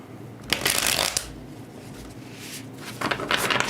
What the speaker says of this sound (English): Let's get these all shuffled up here.